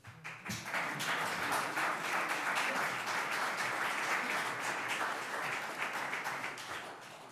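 Sustained applause from an audience at a city council meeting in St. Catharines, a dense steady wash of many hands clapping that rises quickly and holds at an even level throughout, with no talk over it.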